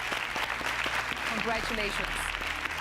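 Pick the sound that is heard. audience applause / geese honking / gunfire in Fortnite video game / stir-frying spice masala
audience applause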